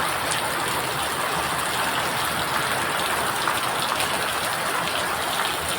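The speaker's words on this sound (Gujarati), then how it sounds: "આજે બપોરનો તો 2 વાગ્યાનો મતલબમાં આવો ને આવો જ વરસાદ ચાલુ છે" Heavy monsoon rain pouring down in Bharuch, a dense steady hiss of falling water that stays constant and fairly close throughout, with no voices.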